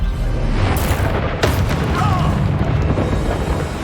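A Bombarda spell explosion in Hogwarts Legacy, a loud booming blast with a crackling burst and a sharp crack midway, layered in dense combat noise.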